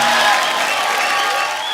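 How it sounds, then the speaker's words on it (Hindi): Studio audience applause with some cheering fills a short stretch at a Hindi comedy show, a dense steady wash of clapping that holds at a constant level before easing slightly at the end. "एक बार जोरदार तालियां गुरु रंधावा के लिए।"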